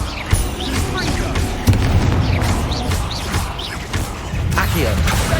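Spell explosion from a Confringo cast in the Hogwarts Legacy video game, a fiery boom amid continuous dense battle noise with rumbling impacts and clattering effects, loud and busy throughout.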